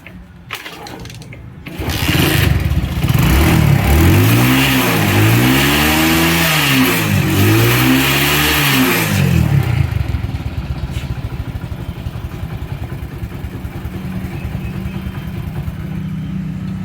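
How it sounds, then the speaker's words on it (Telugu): A motorcycle with a worn cylinder bore starts after brief fumbling, then revs up and down several times in loud, rising and falling sweeps before settling into a rough, steady running note close by. "ఒకసారి బండి అయితే స్టార్ట్ చేస్తా చూడండి"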